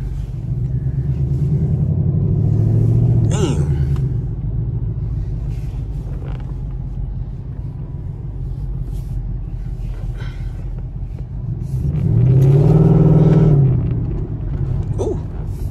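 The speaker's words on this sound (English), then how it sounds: "It's too many cars and traffic." Heavy car traffic rumbles along a city street, with low engines droning steadily and two vehicles passing close and loud, swelling and fading; a voice briefly mutters once.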